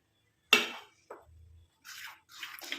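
Homemade liquid hair dye is poured out in a few short, close splashy trickles and drips, with silent gaps between them.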